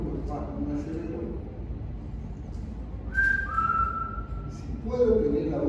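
A person whistles loudly to mimic a wheezing breath, producing two sustained tones, the first slightly higher and gliding into a longer steady note, after stretches of speech.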